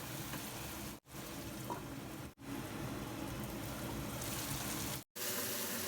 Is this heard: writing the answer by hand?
no